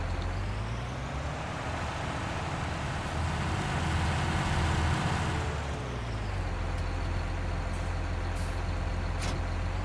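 A truck hauling trailers in Farming Simulator 19 rumbles with a steady, loud engine drone. The engine swells in the middle and then settles, and brief hissing bursts sound near the end.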